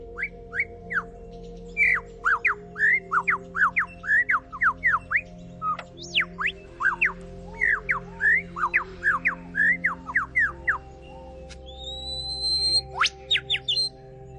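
A bird mimics car alarms and machine sounds with repeated sharp whistled chirps in quick rhythmic series, then a longer tonal alarm-like whistle, loud and close over a low steady hum.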